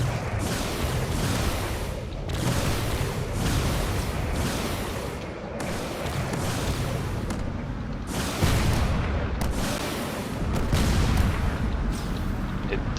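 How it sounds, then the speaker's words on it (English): Heavy cannon fire pounds a supercarrier in a space battle video game: a continuous barrage of deep, rumbling booms and blasts overlapping one another, loud and dense throughout with recurring swells of impacts. "it is going to start taking hits from all these cannons"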